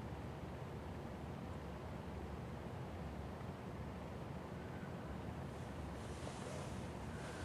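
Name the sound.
wind outdoors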